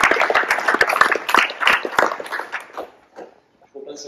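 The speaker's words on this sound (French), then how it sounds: "je pense qu'on peut les applaudir" An athletics club audience in Ploërmel applauds its coaches at the club's annual review, a burst of clapping lasting about three seconds that fades out, with voices mixed in beneath.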